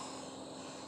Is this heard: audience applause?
no